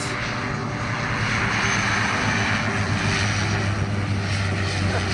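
A steady, loud helicopter engine drone with a deep rhythmic rotor throb, passing close overhead, continuous throughout, beside a riverbank.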